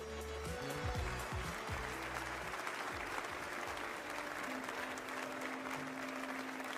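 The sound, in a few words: audience applauding at Ubisoft Forward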